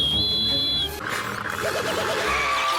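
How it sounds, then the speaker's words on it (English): A cartoon mouse whistle made of cheese is blown, giving a thin, high steady whistle for under a second, followed by wobbling squeaky cartoon effects and warbling tones. "He has the mouse whistle and it's made out of cheese, so Perry has a smart idea."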